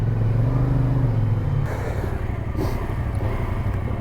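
A CF Moto 450SR sport motorcycle engine rumbles and revs close by, a loud steady low throb with a pitch that rises and dips over a few seconds.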